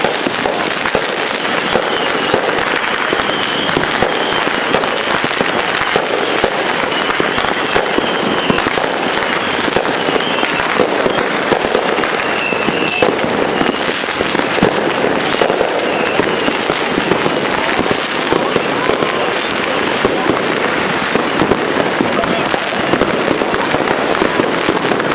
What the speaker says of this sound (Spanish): Se oyen muchos cohetones, bombardas, cohetes silbadores y demás tipos de pirotécnicos.